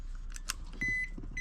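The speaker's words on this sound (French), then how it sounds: "on entend un petit bip" A small electronic beep from the hazard-light indicator on a 2001 motorcycle, a thin steady tone sounding twice, first briefly and then again near the end, over low engine rumble.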